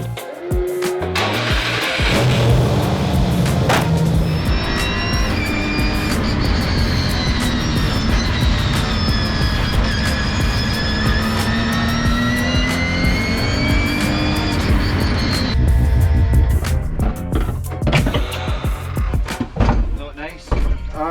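A race car engine starts at a driver development day and runs at a sustained loud drone, its pitch climbing and falling as it drives, then easing off near the end.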